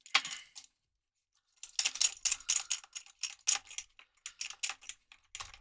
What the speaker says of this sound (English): Keys jangle as I scratch off the code, making some noise.